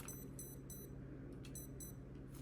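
A Hobbywing Quicrun Mini24 ESC fitted in an Ascent18 RC crawler gives short, high calibration beeps in quick clusters, faint over a low steady hum, with no talking.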